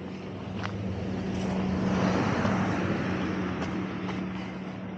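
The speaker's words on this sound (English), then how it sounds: "Guess I'm going to have to step aside because that car is now behind me" Car rolling up from behind on a quiet street in Anaxos on Lesbos, a steady low engine hum and tire noise that swells and lingers close by, with no talking.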